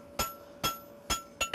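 A farrier's hammer taps a horseshoe clip while leveling it at a forging and horseshoeing clinic: five sharp metallic ringing strikes, the last two in quick succession, close and clear with no talk.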